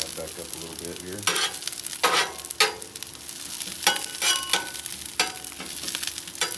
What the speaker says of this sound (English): I'm going to work on sauteing these